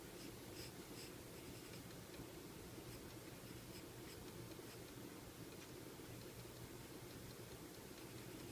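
Pen scratching steadily on paper while sketching a monster's eye with a slit pupil, a faint continuous scribbling texture over steady low hiss, no talk.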